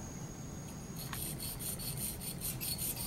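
A dental scaler's blade is drawn across a sharpening stone in quick, rhythmic rasping strokes, soft and close, with roughly eight short scrapes in a row and no speech.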